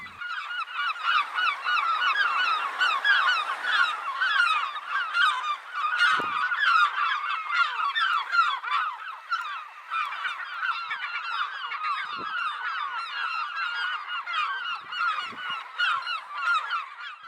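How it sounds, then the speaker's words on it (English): Seagulls call constantly near a rocky coast beside old slate workings, a loud, dense chorus of overlapping cries carrying on without a break, with no voices. "now all I can hear is the symphony of singing seagulls"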